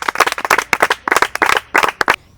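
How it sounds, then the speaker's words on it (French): A small audience with children claps in short irregular bursts of hand claps, loud and close, pausing briefly between rounds before stopping. "Est-ce que nous tous, nous pouvons l'applaudir?"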